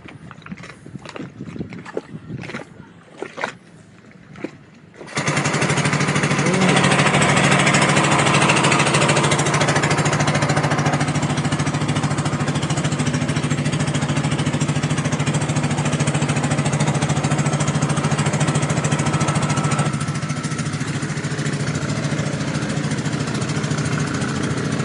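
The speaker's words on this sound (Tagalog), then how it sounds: "So, start na yung makina ni tatay dyan ulit." A small boat's engine at a flood control channel in Sabang, Baler is cranked and catches after a few seconds of sputtering, then settles into a loud, steady close-up chugging drone for the crossing.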